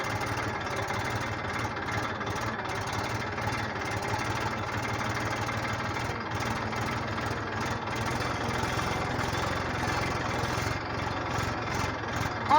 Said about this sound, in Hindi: ट्रैक्टर की आवाज़ इतनी ज़्यादा होती है